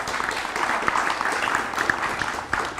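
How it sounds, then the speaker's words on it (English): Audience clapping at a graduation ceremony for service-dog teams, a continuous crowd applause of many hands at moderate loudness, holding steady throughout with a few sharper claps standing out. "Give them a round of applause."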